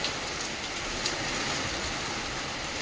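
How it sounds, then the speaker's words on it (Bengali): Heavy rain pours steadily, a dense, unbroken hiss filling the space with no voices. "বাইরে পাল্লা দিয়ে বৃষ্টি হচ্ছে"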